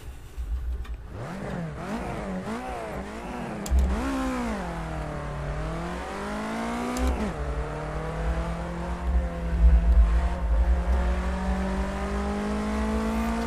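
A race car on cold tires pulls away from a standing start on a timed lap. Its engine revs climb, drop at each gear change, then settle into a long, rising drone, loud and close with no talk.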